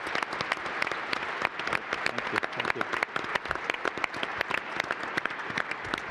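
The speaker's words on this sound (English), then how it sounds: "Round of applause." Steady audience applause fills a lecture hall at the close of a talk on money and digital payments, dense rapid clapping throughout while a nearby voice says thanks over it.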